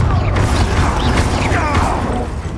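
A Confringo fire spell blast in Hogwarts Legacy, a loud magical burst over a dense rumbling game mix that stays full and steady for the whole stretch, with crackling, mechanical-sounding layers on top.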